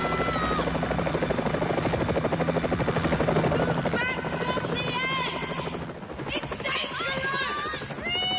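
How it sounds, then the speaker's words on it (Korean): A helicopter hovers in a horror film scene, its rotor thumping in a steady rapid beat throughout, loud and close, while voices speak over it. "그런데 그때 그곳에 정말로 헬리콥터가 나타나고"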